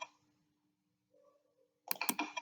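A computer mouse gives a few quick, close clicks near the end after a near-silent stretch, sharp and dry in a quiet room.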